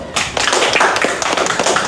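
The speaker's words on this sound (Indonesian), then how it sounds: "Oke, tepuk tangan." Children clap together in a classroom, with a brisk, continuous patter of hands that sounds close and fairly loud throughout.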